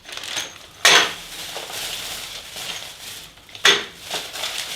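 Metal furniture bolts with hex nuts clinking and rattling as they are handled, two sharp close metallic clatters with lighter jingling between them.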